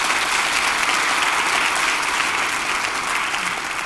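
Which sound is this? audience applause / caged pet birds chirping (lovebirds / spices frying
audience applause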